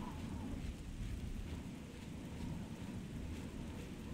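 Steady rain with rumbling thunder in the fantasy role-playing game Oblivion, a continuous broadband downpour with low rolling thunder underneath, no talking.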